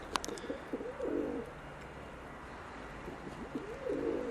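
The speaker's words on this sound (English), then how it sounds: "The pigeons are interested in us." Pigeons coo outdoors in a medieval city cemetery, two soft throaty bursts of cooing a few seconds apart over a low steady background hum.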